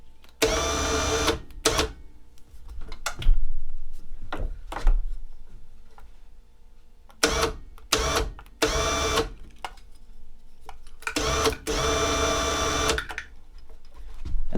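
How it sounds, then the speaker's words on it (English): Electric winch spooling in a synthetic winch line under tension in repeated bursts of a few seconds each, with a steady whirring motor tone between short pauses, close and fairly loud. "we're just going to roll her in there nice and tight"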